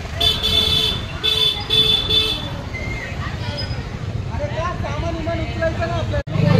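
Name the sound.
tempo truck approaching from behind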